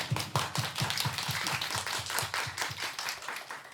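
Congregation at a church youth service gives an encouraging round of applause, dense clapping from many hands throughout, steady and fairly loud with no break.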